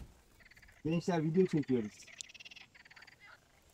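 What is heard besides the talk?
frogs croaking in nature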